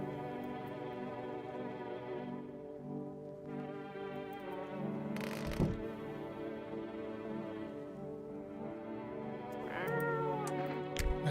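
A cat meows in the video game No, I'm Not a Human, with repeated drawn-out meows over a steady tonal ambient drone.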